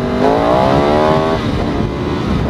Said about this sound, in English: I spun the rear wheel at 30 miles per hour.